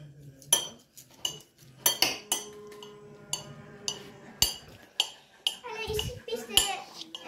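Cutlery and dishes clink and scrape in scattered, sharp taps during a meal of rice with fried pork, with quiet voices talking intermittently.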